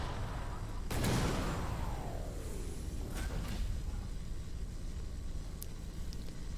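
One heavy flak cannon blast from the Everspace 2 spaceship booms near the start and trails off in a falling whoosh. A fainter second burst follows amid a constant low engine rumble.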